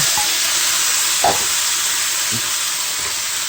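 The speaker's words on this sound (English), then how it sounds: "we're just gonna pop it back into our hot pan" Chopped meat being fried in a hot pan gives a loud, continuous sizzle close to the microphone, holding steady throughout with a single small pop partway through and nobody speaking.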